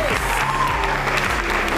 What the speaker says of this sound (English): A round of applause to Athens for being so